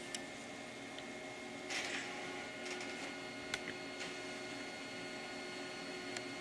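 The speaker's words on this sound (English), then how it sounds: "As you can see, it prints straight through." A printer prints a transfer film sheet, running steadily with a low mechanical hum, broken by occasional faint clicks and ticks as the sheet feeds through.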